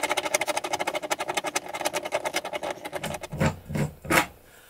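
A fitting being unscrewed in a wooden cabinet, heard as a fast run of rhythmic ratcheting clicks that slows into a few louder, separate creaks and scrapes, close up, with no talking.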